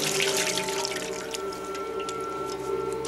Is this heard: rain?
no